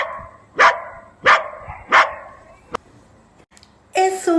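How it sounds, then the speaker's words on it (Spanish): A small pet dog barks three times in a row at an even rhythm, close and loud, followed by quiet, a few clicks and a brief noisier burst. "¡Es un perrito!"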